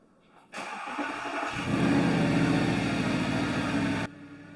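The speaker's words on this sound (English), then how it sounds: "let's start the car and see how it goes" An Audi R8 engine cranks and fires up, then settles into a loud, steady idle that lifts slightly in pitch before cutting off abruptly after a few seconds.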